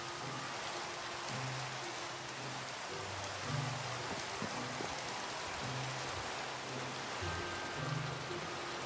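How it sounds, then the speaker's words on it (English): Steady Minecraft rain hisses across the whole span, a dense even patter at constant loudness, with faint low in-game tones and thuds underneath and no voice. "This rain's kind of loud."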